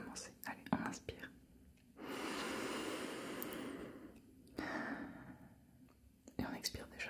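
Soft, close whispered breathing for a calming exercise: a long slow inhale of airy noise builds and holds, followed by a second breath, with faint whispers around it.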